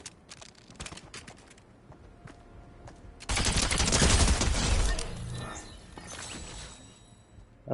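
Bursts of Fortnite gunfire, scattered shots early, then a loud dense volley in the middle that tails off, with faint background voices and game sounds.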